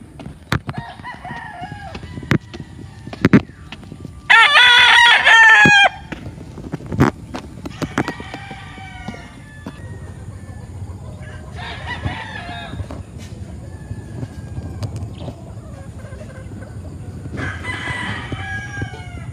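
Backyard roosters crowing repeatedly, several loud cock-a-doodle-doo calls spaced a few seconds apart, with clucking and scattered knocks and rustles in between.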